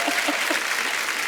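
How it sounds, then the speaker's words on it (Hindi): A television comedy studio audience applauds in a brief, dense burst of many hands clapping. The clapping is steady and moderately loud, with no voices over it. "इससे भी तालियां हैं"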